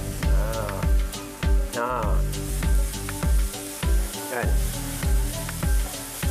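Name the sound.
onion and garlic frying in pan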